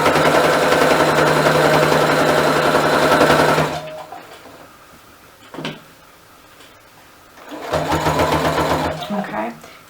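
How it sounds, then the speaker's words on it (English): A sewing machine runs in a fast, steady whir as it stitches the seams of a rag quilt tote, stops for a few seconds amid a light handling knock, then starts up again. "we're going to go ahead and sew through here"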